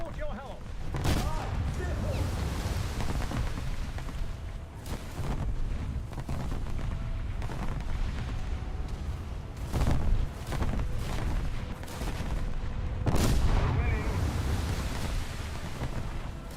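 Battleship main guns fire in a naval combat video game, a run of heavy booms with rolling rumble and splash-like crashes, several big salvos over a constant loud battle din, with talk mixed in.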